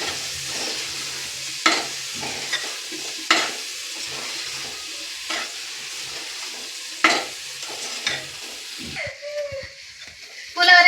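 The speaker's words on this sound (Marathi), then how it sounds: "ते मी याच्यामध्ये मिक्स करते व ह्याला देखील मिक्स करून घेते" Spice masala fries in a pan, a continuous hiss punctuated by regular scraping strokes of a spoon mixing it, with a brief clatter near the end.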